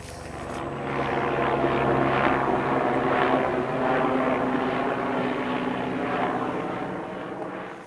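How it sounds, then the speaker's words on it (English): A loud, steady helicopter engine drone with rhythmic rotor pulsing, sounding fairly close overhead and gradually fading slightly. "Now I got the helicopter coming."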